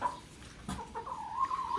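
Chickens on a newly bought farm cluck in short, repeated calls at close range, a steady murmur of the flock with one brief louder squawk partway through.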